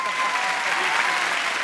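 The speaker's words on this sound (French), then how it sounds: "on peut l'applaudir bien fort" A stage audience at France's Got Talent applauding loudly, a brief, dense and even wash of many hands clapping together.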